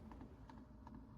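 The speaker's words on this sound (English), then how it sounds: "Logitech MX Anywhere 3S clicking sound test" Left button clicks on a Logitech MX Anywhere 3S compact wireless mouse, a few soft, quiet taps close up, spaced irregularly over a low background hum.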